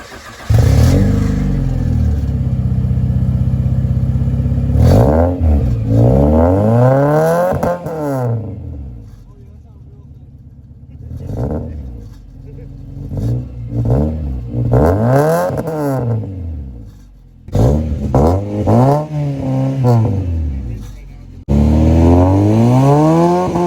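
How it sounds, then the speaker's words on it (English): A car on a lift with a newly fitted custom exhaust fires up and revs hard again and again, loud sweeping climbs and drops with short idle gaps between them and no talking. "right here is the first official start with the new exhaust system"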